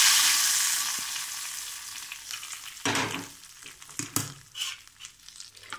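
Hot tempering (popu) tipped into raw tamarind pachi pulusu gives a loud burst of sizzling and crackling around the middle, then bubbling that fades to a scattered, near crackle with light stirring and no talk.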